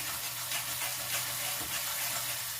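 Ginger garlic paste sautéing in an iron kadai gives a steady, even hiss of frying with a low hum beneath, continuous and close throughout with no talk.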